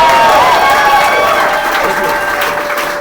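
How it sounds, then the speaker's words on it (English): Crowd at a Seattle political rally applauding and cheering, a loud sustained wash of clapping with a voice and ringing tones over it, slowly easing off. "Wow, what a crowd."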